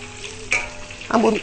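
Sweet potato shoots being stir-fried in hot oil in a home kitchen, giving a soft steady sizzle with a brief stirring scrape midway and a louder burst of frying near the end.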